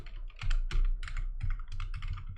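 Typing on a computer keyboard during a CSS coding lesson, a steady run of close, crisp key clicks in uneven bursts with no voice over them.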